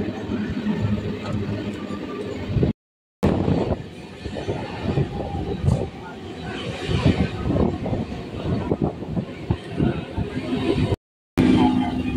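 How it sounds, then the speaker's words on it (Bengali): A suburban local train rumbles steadily along the rails leaving Titagarh station, with rhythmic clatter and rattling, broken by two brief silences, and faint voices in the background. "ট্রেন এখন টিটাগড় স্টেশন ছেড়ে বেরিয়ে যাচ্ছে"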